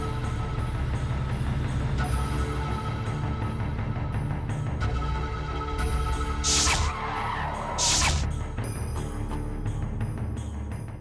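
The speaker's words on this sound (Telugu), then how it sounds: "ఏదో కారు వస్తుంది." A car on a road toward a temple approaches with a rising engine rush and a couple of sharp tire-squeal bursts, loud and near over continuous traffic-like rumble.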